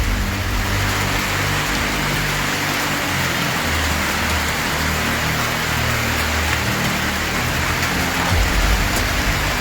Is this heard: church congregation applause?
no